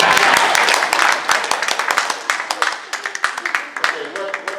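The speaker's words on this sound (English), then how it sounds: "You can clap now." Audience at a talk on the Constitution claps after the speaker finishes, a loud burst of many hands that thins into sparse, uneven claps as it fades, with faint voices underneath.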